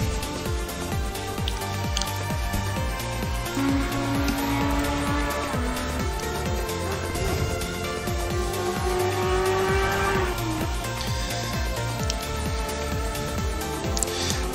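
An Audi R8 Evo II race car in Assetto Corsa Competizione roars at close range, its engine note rising and falling through gear changes, with tire squeal and skidding underneath and no talk.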